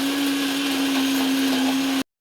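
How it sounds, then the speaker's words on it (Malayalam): A mixer grinder grinds batter with a little water, whirring loudly and steadily with a strong motor hum, running alone for about two seconds before cutting off abruptly. "ഞങ്ങളുടെ മിക്സി നന്നായിട്ട് അരയാനായിട്ട് കുറച്ച് ബുദ്ധിമുട്ടാണ്"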